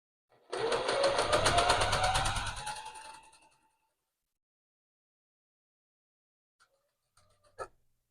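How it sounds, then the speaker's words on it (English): Sewing machine running a zigzag stitch on a doll's witch cape, one close burst of about three seconds that speeds up and then winds down, followed by silence and a few faint handling clicks. "I'm going to do a zigzag stitch."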